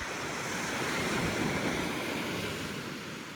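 Ocean surf washes steadily onto the beach at Costa Mujeres, Mexico, a continuous broadband rush with light wind buffeting the microphone and no voices.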